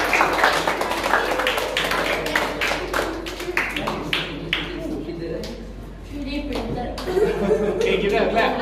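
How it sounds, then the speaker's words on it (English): Scattered hand claps for a student at a secondary-school STEM award presentation, irregular and fairly close, mixed with chuckles and light laughter from the audience. "Yeah, give him a clap."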